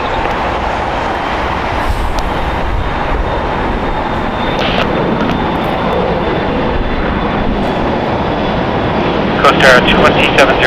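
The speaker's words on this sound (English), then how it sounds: "we're finally touching down here on the south side of LAX" An airliner touching down on runway 25 left on the south side of LAX, a loud continuous engine roar and rumble throughout, with a brief sharper burst near the end.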